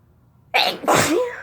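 A single chhinkni-induced sneeze, close and loud, with a quick intake followed by a forceful explosive burst that trails off, after a moment of near silence.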